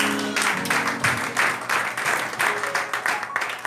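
A church congregation applauds together in a dense, steady wash of clapping that pulses slightly, with a voice briefly heard at the start.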